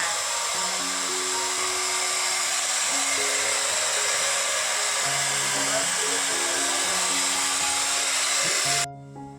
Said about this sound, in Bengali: এখন মেশিন চালিয়েছে আর জন্যই আওয়াজ হচ্ছে প্রচুর